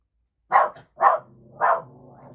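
A house dog gives three sharp barks about half a second apart, close and loud in a quiet indoor room, with a low rumbling growl lingering between and after the last two.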